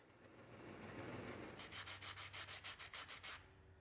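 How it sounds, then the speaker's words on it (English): Metal parts of a handmade pair of compass dividers being sanded with sandpaper, a steady close abrasive rub followed by a run of quick, even back-and-forth strokes. "I sanded each item with varying grits of sandpaper, starting with 80 grit and working my way up to 800 grit for the metal parts"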